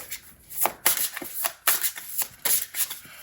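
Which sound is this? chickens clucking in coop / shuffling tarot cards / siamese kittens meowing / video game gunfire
shuffling tarot cards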